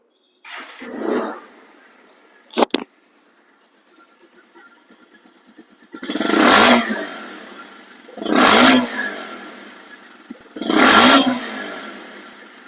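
A 2024 Bajaj Pulsar One Disc motorcycle with about 90 km on it idles, then revs hard three times in evenly spaced, roaring bursts, close by and loud.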